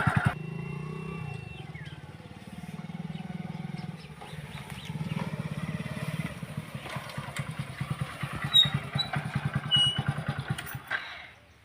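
A new motorcycle's engine idles with a steady, throbbing low putter, fairly faint and continuous, with occasional clatter.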